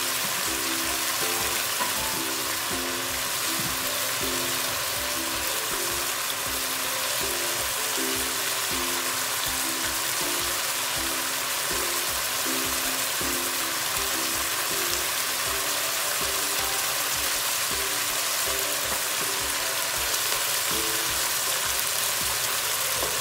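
Tomatoes sauté in a pan for a Filipino mussel soup, giving a steady, even sizzle and crackle that runs unbroken throughout, close and moderately loud with no voices.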